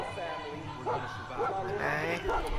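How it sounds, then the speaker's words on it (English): Caged dogs in the video game Far Cry 5 bark, yip and whimper repeatedly over a steady, dense game soundscape. "Dogs in a cage."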